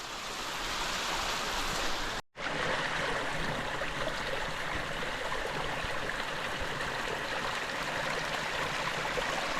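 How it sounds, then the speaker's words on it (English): A stream of running water in a misty, moss-covered Alaskan forest, a loud, steady rushing flow heard up close, broken by one brief dropout. "sound of running water"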